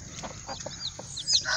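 Chickens in a backyard pen, set apart ahead of a rooster's arrival, cluck softly and intermittently at close range, ending in a louder burst of squawking.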